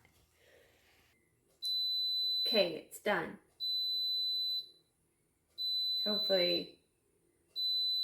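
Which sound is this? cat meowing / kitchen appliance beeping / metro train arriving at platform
kitchen appliance beeping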